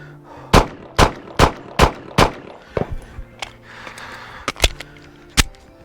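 An HK VP9 pistol fires about ten loud, close shots at a skeleton target from roughly five or six yards, five in a quick steady rhythm and then several more spaced irregularly, with no talking.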